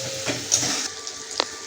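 Cooked-down tomato is sautéed in a pan with red chilli and turmeric powders, a steady near sizzle broken by two brief stirring scrapes.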